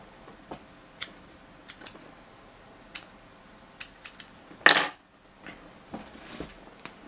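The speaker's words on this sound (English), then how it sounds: "Trim with your scissors right where you want it." Scissors snip through bucktail hair being trimmed on a hand-tied fishing jig: quiet, scattered clicks spread across a few seconds, with one sharper, louder cut near the end.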